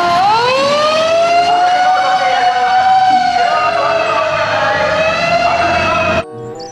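A toy fire engine gives off a loud electronic siren, one rising wail that holds a warbling tone for about six seconds before cutting off abruptly.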